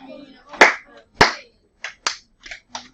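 A teacher claps twice in a classroom, two sharp, loud claps about half a second apart, followed by a few softer, quicker claps or taps.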